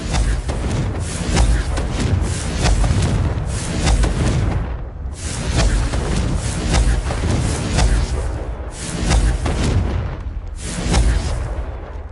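Repeated Confringo blasting spells from Hogwarts Legacy, loud booming bursts with rumbling tails that come in clusters across the span, with brief lulls between volleys and no voices.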